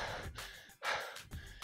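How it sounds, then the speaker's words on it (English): A tired soccer player pants heavily, out of breath, with several close, rhythmic, forceful breaths, each quick inhale and exhale following the last with only brief pauses. "They get tired, they get out of breath. They start panting."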